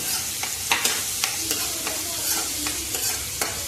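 Finely chopped onions stirred and fried in a pan: a steady sizzle with sharp spatula scrapes and taps every half second or so, close by, without speech.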